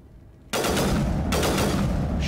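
Rapid automatic gunfire in the video game Mass Effect 1, bursting in loud and continuous after a quiet half-second, with a dense sustained rattle and a brief dip before resuming.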